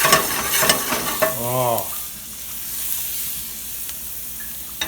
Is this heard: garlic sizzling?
yes